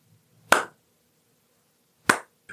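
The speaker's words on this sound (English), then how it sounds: "I slow clap" Two sharp, deliberate hand claps spaced well apart, followed by the start of a third, crisp and close in an otherwise quiet room, a slow clap.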